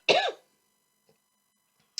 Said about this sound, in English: If I cough again, I'm going to have to stop and put it together